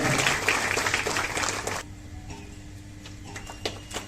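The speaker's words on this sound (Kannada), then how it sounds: "ಜೋರಾದ ಚಪ್ಪಾಳೆ, ಜೋರಾದ ಚಪ್ಪಾಳೆ" Loud applause at a groundbreaking ceremony for a new agricultural cooperative society building in Kanamadi: a burst of many hands clapping dies away after a couple of seconds, leaving scattered faint taps and room quiet.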